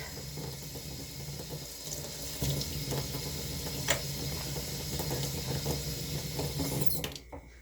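Tap water runs steadily into a sink while trumpet parts are rinsed under it, with faint metallic clicks and knocks from the parts being handled, close and alone.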